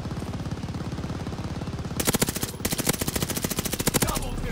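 Close, loud Type 100 submachine gun fire in Call of Duty Vanguard multiplayer, heard as rapid continuous bursts with a brief pause partway through, running under background game noise.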